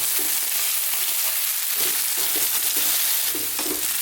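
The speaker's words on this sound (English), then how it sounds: "fry these around in the pan, stirring often" Sweet potatoes fry above medium heat in a pan and are stirred often, making a loud, continuous sizzle with a series of soft scraping stirs through it, with no voices.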